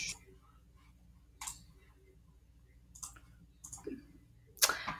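Mouse clicks on a computer while setting up a website audience, a few sharp, faint clicks spaced out over a quiet background with breathy noises between.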